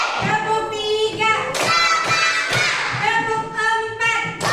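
Children clap hands in short counted bursts, sharp thuds between sung and spoken counting voices, close and lively in a classroom.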